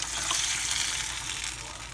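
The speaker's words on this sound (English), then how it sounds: "now I'm going to pour the eggs into the pan with the sauteed tomatoes and peppers and onions" Beaten eggs hiss and sizzle steadily as they hit a hot pan of sautéed tomatoes, peppers and onions, a close, continuous frying crackle.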